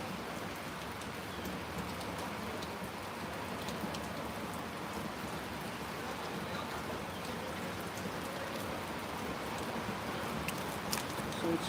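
Steady rain pours down throughout at a softball game in Pohnpei, a dense even patter on surfaces with no breaks.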